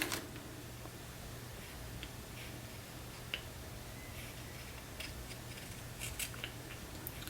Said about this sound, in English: Alright, just cut this out.